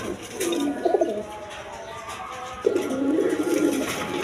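A freshly paired male and female pigeon coo in two low, rolling bursts, one near the start and one toward the end, close and clear with no voices.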